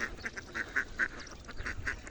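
Many ducks gathered in a village area quack in quick, rhythmic bursts, a dozen or so nasal calls close by with brief gaps between them.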